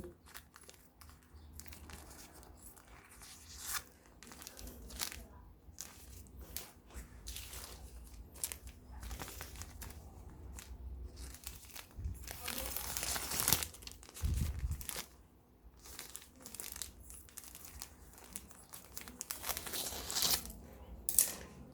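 A plastic bag is crinkled and cut with scissors, giving soft intermittent rustles and snips at low volume, with a louder crumpling burst partway through.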